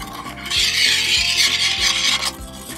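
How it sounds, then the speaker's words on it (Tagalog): A spoon scrapes around a pot of ube halaya, purple yam cooked with milk, condensed milk and sugar, making loud, close, gritty rubbing strokes that repeat in a steady rhythm. "Haluin mo lang."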